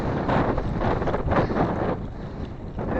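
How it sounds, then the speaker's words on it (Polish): Heavy wind buffeting the microphone on a bicycle ride, a loud continuous rumble and roar with gusty surges and no voices. "wiatr daje mi trochę w kość"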